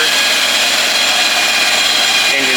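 A used 2022 Cobalt R6 boat engine hums steadily, a continuous broadband drone held at a constant level throughout, with no voices over it.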